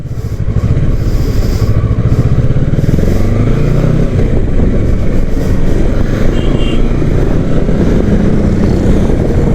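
Kawasaki Versys 650 motorcycle pulling away with the engine accelerating, loud and close, the pitch climbing steadily through gears with wind rush underneath and no talk.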